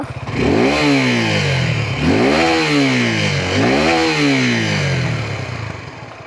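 Suzuki V-Strom SX 250 motorcycle engine running, revved three times in a row with rising and falling exhaust note over a steady idle, close and loud.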